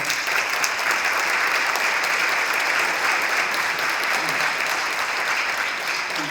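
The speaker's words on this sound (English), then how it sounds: "I just want another round of applause for all our inductees up there." Sustained applause from a hall of fame induction audience for the honorees, a dense, steady wash of many hands clapping at even loudness throughout, with no clear talk over it.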